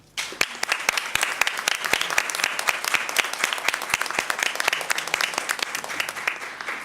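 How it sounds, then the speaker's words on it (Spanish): Audience applause at a panel event, crisp individual claps standing out within a lively, fairly close crowd clapping that holds steady for about seven seconds without speech. "les pido un aplauso para ella"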